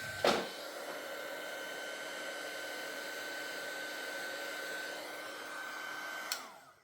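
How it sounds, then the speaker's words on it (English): Handheld heat embossing tool blows hot air in a steady, close whir that runs evenly for several seconds between a click on and a click off. "And I'm coming back in with that heat tool."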